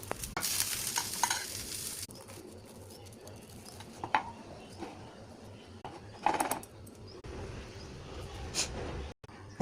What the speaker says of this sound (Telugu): కొంచెం ఇక్కడ కూడా ఇలా పట్టి ఫ్రై చేసుకుందాము